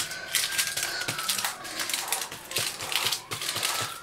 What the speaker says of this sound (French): Et je vais mouiller un petit peu mes mains Et je vais aplatir le pain.